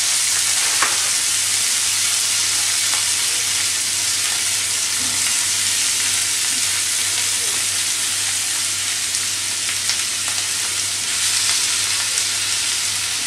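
Kefta meatballs sizzle and fry steadily in a hot pan while being prepared for savory crepes, a loud, continuous crackling hiss close up with occasional stirring, no voices.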